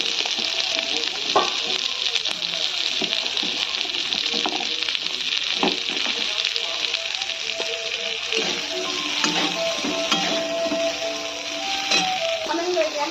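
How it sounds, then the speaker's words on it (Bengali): Capsicum frying with chopped garlic and ginger in a pan for chilli chicken sizzles steadily, with frequent sharp clinks and scrapes from stirring. "এবার দিয়ে দিচ্ছি ক্যাপসিকাম।"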